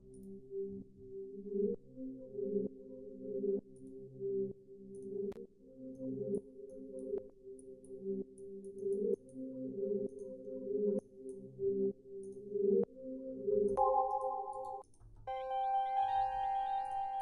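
A trap beat in the 808 Mafia style, made in FL Studio with a Gross Beat half-speed effect: a slow, repeating tonal pattern pulses steadily. Brighter chime-like notes come in near the end.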